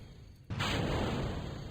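Rocket stage explosions in Kerbal Space Program: after a brief quiet, a sudden loud burst gives way to a sustained roaring, crackling rumble that holds steady.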